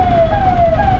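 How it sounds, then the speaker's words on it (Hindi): A loud, close government-vehicle siren wails in a steady rising and falling tone for a brief moment in traffic. "ये अपने सायरन भी बजा ही रहा है"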